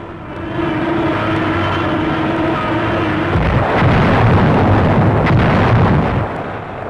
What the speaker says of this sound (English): Nazi counter-battery fire.